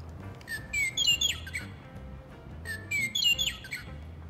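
A western meadowlark sings from a played recording, two bright, fluting phrases spaced a couple of seconds apart, clear over a faint background hiss.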